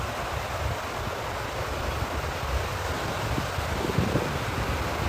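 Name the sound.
strong wind by the sea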